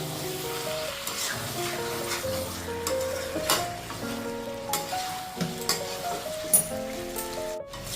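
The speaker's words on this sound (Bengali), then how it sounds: "এইভাবে নেড়ে চেড়ে কষিয়ে নেব" Chicken masala stirred and sautéed in a pan for an aloo chicken jhol, a constant loud sizzle broken by repeated close scrapes and clinks of the spatula against the pan, with no voices and a melodic background tone.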